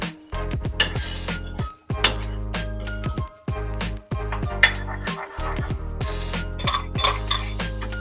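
Metal spoon clinks and scrapes in a pot of boiling palak being made into palak paneer, sharp repeated knocks in uneven bursts with brief pauses, close and fairly loud, no talking.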